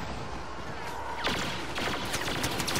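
Blaster fire in a Star Wars Battlefront match, a quick volley of bright zapping shots bursting out over a dense, noisy battle background.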